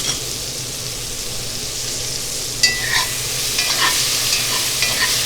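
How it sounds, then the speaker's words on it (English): Bacon fat and a little light olive oil sizzling steadily in a pan, a constant close hiss with a few brief pops and a faint stir partway through, no talk. "Smells incredible cooking in this bacon fat and a little bit of light olive oil"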